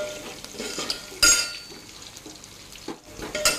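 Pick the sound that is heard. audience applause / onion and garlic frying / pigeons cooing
onion and garlic frying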